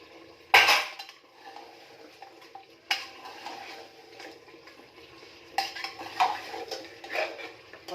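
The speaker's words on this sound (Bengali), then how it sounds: "এবার আলুগুলো দিয়ে দিচ্ছি।" Potatoes are tipped into a pot of mutton curry and stirred, giving a few loud clattering knocks of utensil against metal, then quieter scraping and stirring, with another burst of clanks near the end; no talk.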